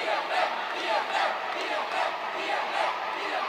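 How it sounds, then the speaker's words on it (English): Home crowd at a futsal club championship final cheering hard near the end of the match, a steady distant chant of many voices rising and falling in rhythmic waves. "the home team are cheering hard in the last 90 seconds of the match"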